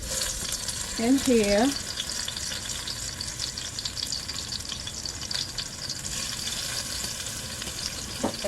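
Garlic slivers fry in a hot pan with a steady broadband sizzle running throughout, while a voice speaks briefly near the start.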